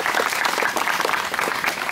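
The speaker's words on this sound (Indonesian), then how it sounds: "Tepuk tangan dulu." Audience clapping at an Indonesian youth meditation gathering, a steady dense patter of many hands sustained throughout the short stretch at moderate level.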